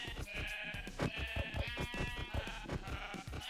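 A sheep in the video game Minecraft bleats in quick repeated wavering cries, loud and close, with nothing else around it.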